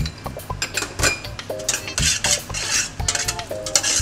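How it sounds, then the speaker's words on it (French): Salmon and sea bream tartare, cut into small brunoise, gets stirred through a sauce in a bowl, giving soft wet mixing sounds with scattered clinks of utensil against dish, close and steady, with no talking. "On mélange bien pour que les morceaux soient bien enrobés de sauce."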